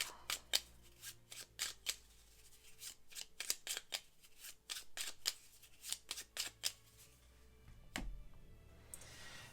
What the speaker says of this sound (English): We need to shuffle these.